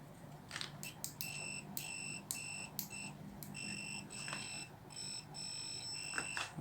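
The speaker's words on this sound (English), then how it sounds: "So now if I short the leads, I should hear the buzzer." A Sanwa PM3 digital multimeter's continuity buzzer beeps in a string of short, faint, high tones, some clipped and some held, as the test leads are shorted together in a quiet room.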